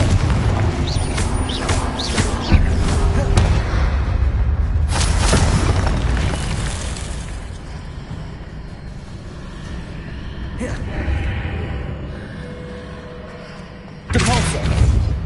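The Confringo spell exploding in Hogwarts Legacy, a loud rumbling blast that fades into continuous game noise and is followed by another sharp burst near the end, with voices in between.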